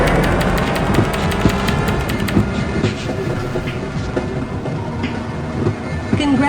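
A Half-Life train on the Black Mesa hazard course rolls along with steady rumbling and repeated clickety-clack of wheels on rail joints, loud and continuous, with no voices.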